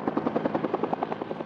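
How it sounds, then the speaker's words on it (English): A helicopter drops retardant over wildfire hot spots in a canyon. Its rotor gives a steady rapid thudding pulse with a buzzing engine drone, continuous and moderately loud, with no voices. "Helicopters drop retardant over stubborn hot spots"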